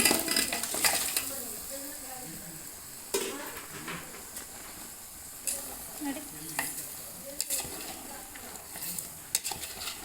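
Cooked mutton head meat being stirred into a hot tempering in a pot: a steady sizzle with scraping spoon strokes against the metal and occasional clinks, close up, with no talking.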